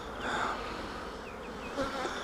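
Bees swarm around an open beehive with a steady, soft buzzing hum, wings whirring close by as individual insects drift past, with no voices.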